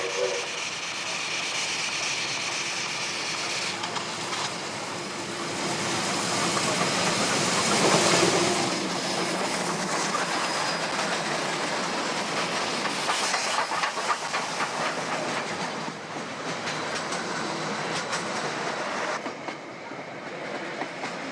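A steam train rattles through a station in New Zealand's South Island, wheels clattering over rail joints with a constant hiss of steam, swelling loudest midway then easing off.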